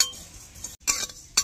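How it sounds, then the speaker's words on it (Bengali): Whole coriander and cumin seeds stirred in a dry heated kadai, bright metallic clinks and scrapes of a utensil against the pan in short bursts with a brief pause, close and fairly quiet. "এবার নাড়িয়ে চাড়িয়ে ভেজে নেব।"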